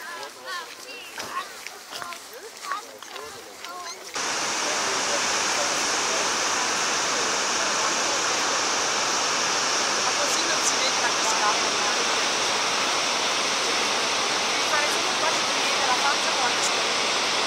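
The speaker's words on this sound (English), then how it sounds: "So we will now go at this side of the waterfall." Waterfall near Akureyri, Iceland, a loud constant broadband roar of rushing water that surges up after a few seconds of voices and wind, then stays steady and close.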